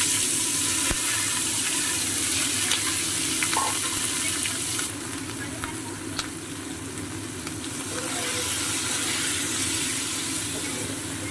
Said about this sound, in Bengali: ডিম পেঁয়াজের মধ্যে এরকম একটু এলাচ আর দারচিনি ফোড়ন দিলেও বেশ ভালো লাগে